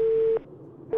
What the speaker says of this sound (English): Oh no, the phone hang up.